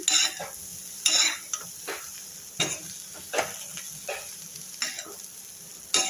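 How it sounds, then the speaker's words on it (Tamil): Cluster bean usili fries in a pan while a spoon stirs it, making repeated scraping strokes over a constant close sizzle, with no voices. "நல்லா கிளறி ஒரு 5 நிமிஷம் சிம்லேயே வைக்கிறேங்க"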